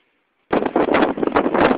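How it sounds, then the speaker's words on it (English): Hurricane Debby blasting a beachfront balcony at Vilano Beach, Florida, with gusting wind and stinging rain hitting the microphone in a loud, rough roar that starts abruptly after a moment of quiet. "Winds are at 22 miles an hour and gust of 26."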